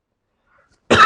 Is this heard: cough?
yes